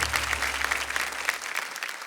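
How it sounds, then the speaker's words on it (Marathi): An audience claps for kirtan performers Pankaj Maharaj and Neelam Maharaj on a Marathi competition stage, dense steady applause over a fading low musical drone. "जोरदार टाळ्या झाल्या पाहिजे त्यांच्यासाठी"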